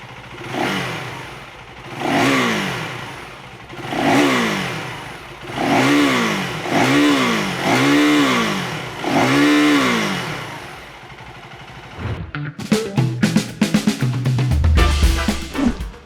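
A 2023 KTM 390 Duke single-cylinder motorcycle with an underbelly exhaust is revved while standing still, giving six or seven sharp throttle blips that rise and fall in a regular rhythm, followed by a few seconds of clattering idle, close and loud.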